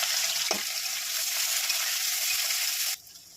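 Chopped onions frying in hot oil in a pan for a spicy fish dish, a loud, dense, steady sizzle close by that cuts off abruptly near the end, leaving only faint room noise.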